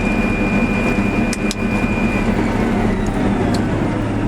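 A 70 Series combine harvester engine runs at full throttle while harvesting, a loud, continuous low mechanical drone with a faint steady whine, heard from the cab with no voices.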